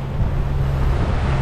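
A sailboat motoring at sea between Barbuda and Guadeloupe under rain squalls, its engine giving a loud, steady low drone mixed with wind and water noise.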